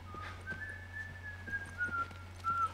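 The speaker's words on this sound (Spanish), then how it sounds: "¿quién está silbando, tío?" A person whistles a slow, wavering tune of a few sustained notes in The Last of Us Remastered, over a low steady hum, fairly clear and close.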